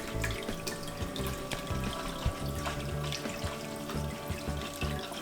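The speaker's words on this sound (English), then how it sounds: "that's just the return lines either side of the tank, pushing the water out" Return lines on either side of an aquarium tank push water out in a continuous splashing, gurgling rush, steady and close, with small drips and bubbles throughout.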